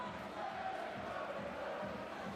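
A rugby league crowd sings at a Widnes Vikings away match, a broad, distant chorus of many voices that holds steady for a couple of seconds.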